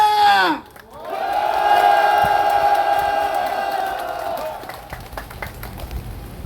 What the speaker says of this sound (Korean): 동지들의 힘찬 함성과 박수로 시작하겠습니다